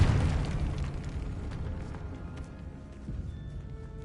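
A Confringo fire spell blasting a barricaded archway in the Hogwarts Legacy video game, opening with a heavy booming burst that decays into a rumbling, crackling tail of debris.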